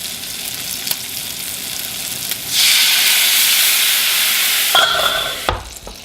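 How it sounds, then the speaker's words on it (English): A hot pan just out of the oven is deglazed, bursting into loud sizzling, hissing steam that swells partway through, holds steady, then breaks off into clatter near the end. "I'm going to deglaze"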